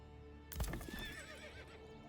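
A horse in the medieval strategy game Manor Lords gives a single short neigh with a whinny, quiet and close, over soft game background sound.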